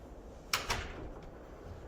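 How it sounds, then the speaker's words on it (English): A door closes beside a room sanitiser unit with a quick double knock, a sharp latch click followed by a softer thud, then quiet room tone. "Once this is done, the door can be closed."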